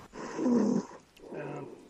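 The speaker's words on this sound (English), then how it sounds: "I heard a snore" A person snoring over a voice call: two drawn-out, rough, throaty breaths, the first louder and the second softer, heard alone with no talk.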